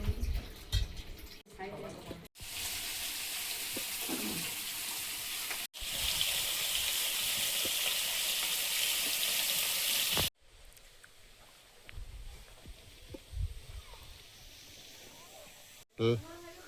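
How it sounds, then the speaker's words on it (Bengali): Small fish fry in a pan over a strong flame, giving a loud, steady sizzling hiss that swells and cuts off in long stretches, with people talking before and after. "ছোট মাছগুলো ভাজা হবে"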